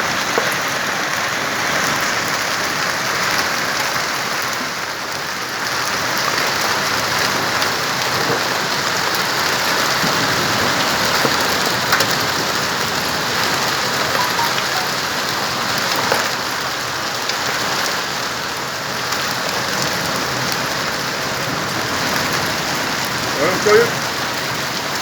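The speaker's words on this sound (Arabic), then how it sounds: "ما شاء الله امطار خير وبركه وثلج زياده." Heavy rain in Ha'il, with snow mentioned as falling too, pours down steadily in a dense, even hiss for the whole stretch, close and continuous with no break.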